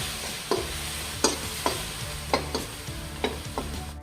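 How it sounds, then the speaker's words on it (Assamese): Semolina and grated coconut being dry-fried in a pan for coconut laddu, with a spatula scraping through the mixture in repeated strokes roughly every half second over a steady soft sizzle, close up, no voices. "এইখিনি চুজি আৰু নাৰিকলখিনি ভাজা হ'ল"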